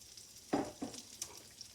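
Red cabbage dropped into a hot frying pan over medium-high heat sizzles in a few quiet bursts, with soft stirring sounds between them, heard close and without speech.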